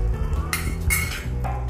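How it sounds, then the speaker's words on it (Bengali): Chana dal with coconut gets stirred in a metal pot in a Bengali home kitchen, a spoon scraping and clinking against the pot in a few sharp bursts over a low background hum. "এখন আমি একটু নেড়ে নেব"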